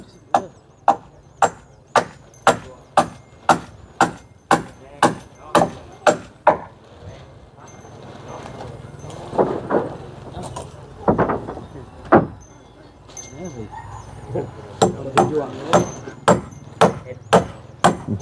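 Wood is hammered on a house construction site. A long run of quick, evenly spaced blows opens the passage, followed by irregular thuds under nearby voices and clatter. Steady strikes resume toward the end.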